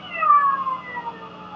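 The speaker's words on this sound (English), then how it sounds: "This is with my cat." A domestic cat meows in one drawn-out, wavering call that falls in pitch, fairly close and clear, with a faint low hum underneath.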